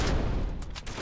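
Gunshots in Halo 3 ODST during co-op play: a short burst of dense, loud firing with a couple of sharper cracks near the end.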